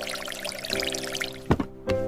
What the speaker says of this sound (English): I water plants.